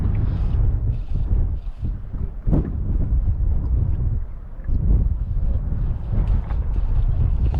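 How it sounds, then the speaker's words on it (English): Wind buffeting a fishing boat on Pitsford Reservoir, a loud, continuous low roar that swells and dips, with faint creaks of the boat underneath. "freaking wind again."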